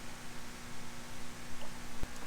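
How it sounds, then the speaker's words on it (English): Crackling static from high-voltage transmission lines leaving the Sequoyah nuclear power plant, heard from a fishing boat on Lake Chickamauga: a faint, steady hiss with a constant low hum and a single sharp click near the end. "So y'all hear that static?"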